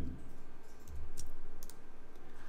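A computer mouse clicks a few times in the InDesign layout software, giving faint, sharp, close ticks scattered over a low background hum, with no voices.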